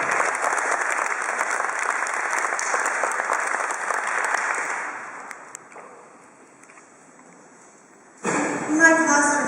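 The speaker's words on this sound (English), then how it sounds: "Big round of applause." Audience applause at a reunion, a broad steady wash of clapping that fades out midway, then a louder burst of sound returns near the end.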